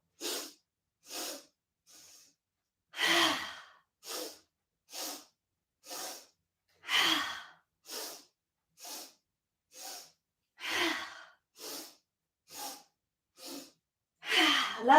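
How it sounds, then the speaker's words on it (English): Rhythmic breathing exercise in a yoga-style class, with a long series of sharp, forceful nasal breaths in and out. They come in an even pulse, close and clear, with occasional longer, louder exhales and no talking. "inhale, exhale."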